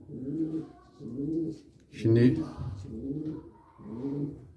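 Homing pigeons coo in a steady series of low, throaty phrases, close by, with a brief spoken word breaking in near the middle.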